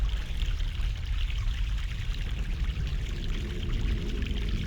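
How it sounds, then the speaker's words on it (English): Fresh mountain stream water in the video game The Longest Journey pours and splashes in a steady, fairly loud rush that runs throughout. "Fresh mountain water."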